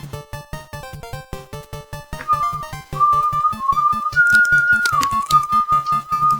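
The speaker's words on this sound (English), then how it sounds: "They can hear you whistling." A person whistles a melody over a rhythmic plucked backing track, the clear whistled line entering after a couple of seconds and holding and gliding between long notes near and at moderate volume.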